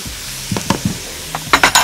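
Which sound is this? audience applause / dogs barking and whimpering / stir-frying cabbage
stir-frying cabbage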